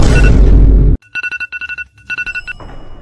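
A telephone rings in repeated short electronic bursts, loud and alone, right after a loud burst of noise, in a short comedic animation.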